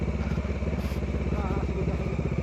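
A Bajaj Dominar 400 UG2 motorcycle engine labours steadily uphill on a mountain road in first gear, a close, continuous throbbing rumble with a voice speaking over it.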